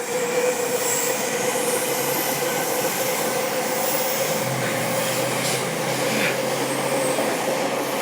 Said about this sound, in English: And there's the Yamanote line.